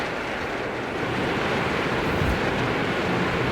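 Water fills up in the Limbo puzzle game as a continuous, broad rushing wash, steady and fairly loud, swelling slightly partway through, with no voices.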